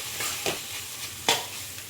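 Dry masala fries with tomato and onion for a crab masala, giving a faint steady sizzle with a few spatula scrapes standing out.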